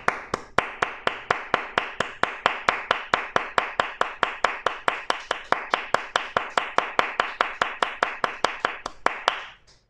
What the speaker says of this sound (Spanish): Así que aplaudamos a Yahshua HaMashiach